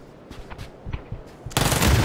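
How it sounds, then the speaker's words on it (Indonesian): Gunfire in PUBG on PC: a few scattered soft shots and clicks give way to a sudden loud, sustained burst of rapid automatic fire. "gue nembak musuh tanpa gue tahu musuhnya di mana dan langsung gue tembak"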